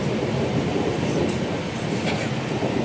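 Inside a moving train, a constant loud rumble and rattle of the carriage fills the air with no break.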